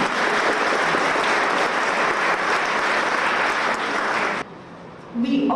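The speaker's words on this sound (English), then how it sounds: "Maybe give her a clap for all the years she's achieved." Dense, loud applause from an audience at a 1998 Anglo-Indian reunion honoring a woman, sustained steadily for several seconds before breaking off sharply into a quieter room.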